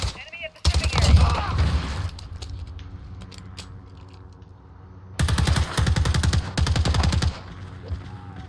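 Automatic gunfire in Call of Duty Modern Warfare hardcore team deathmatch on the Khandor Hideout map: two rapid, loud bursts, one early lasting over a second and another longer burst later, separated by a quieter stretch.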